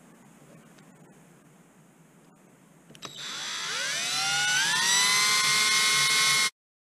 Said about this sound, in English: I'm going to drill the 10 holes with the 3/32 drill.